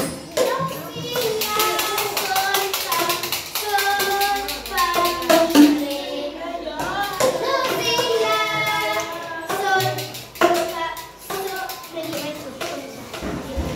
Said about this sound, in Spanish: Pues un aplauso para el segundo equipo